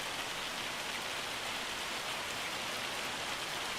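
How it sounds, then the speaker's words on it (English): Hail pours down steadily in a Farming Simulator 25 field during harvest, a dense, even hiss of pellets drumming on surfaces that runs unbroken at moderate distance with no talking. "Wait, how long is this hail sticking around?"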